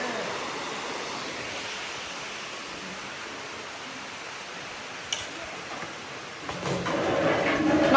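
River water flows steadily beside an outdoor dining spot at a Sakleshpur resort, a broad, continuous rushing wash with a few faint clicks and a slight swell near the end.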